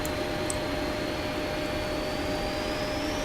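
Jet engines spool up to takeoff thrust in the Prepar3D v4 flight simulator, departing Orio al Serio: a steady, even roar with a high whine that rises slowly, with no voices over it.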